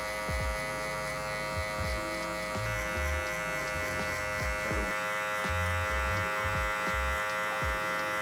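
An electric hair clipper buzzes steadily and close by while fading hair for a comb-over. A constant motorized hum runs under soft scraping and tapping as the blade moves through the hair.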